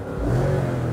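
Imported American sports car engine revving hard up to the rev limiter, a loud, close, sustained roar holding at high revs for about a second.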